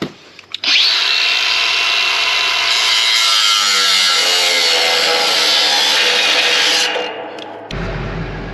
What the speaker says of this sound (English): We're going to use the angle grinder and cut those off.